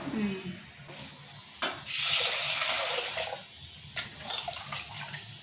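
Toor dal and chana dal being rinsed in water, with a steady splashing, running-water wash that swells in the middle and comes in bursts, close and moderately loud, with no talking.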